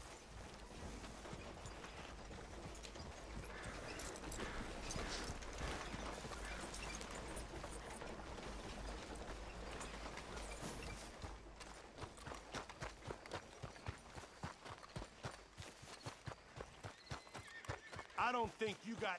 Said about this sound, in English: Okay, we'll hitch our horse right here.